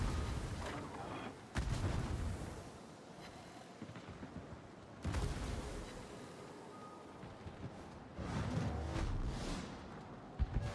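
Enemy ship guns firing in World of Warships, a few loud booming salvos near 0 and 1.5 seconds and again around 5 and 8 seconds, each trailing off into a rumbling, windy roar, with no talking.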